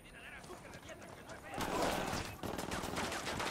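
Rapid machine gun fire in Ghost Recon Wildlands, a burst of quick distant shots rattling out over a muffled game background, with voices talking faintly.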